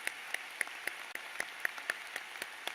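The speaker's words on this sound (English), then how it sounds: "Let's give them a big round of applause." At a university spring commencement ceremony, audience clapping comes through faint and distant, with sparse individual claps ticking out at a slow, fairly regular pace rather than a dense roar.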